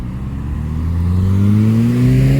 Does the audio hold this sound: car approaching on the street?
yes